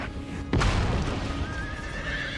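A horse in Empire: Total War gives a loud, strained neigh as it is killed in battle, starting with a sharp burst and trailing into a long whinny over battlefield noise.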